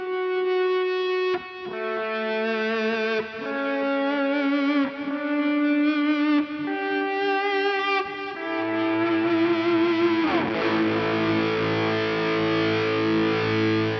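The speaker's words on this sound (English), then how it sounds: "add that slow gear effect in here right at the end" Distorted electric guitar notes through a Mooer Prime P2 slow gear effect fade in slowly one after another, each swelling up without a sharp attack, ending on a thick sustained chord.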